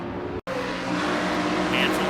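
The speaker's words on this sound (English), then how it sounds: "Yeah, that engine's dying." A race car engine at Bristol drones and sputters unevenly, dying, briefly cutting out for a split second before picking back up.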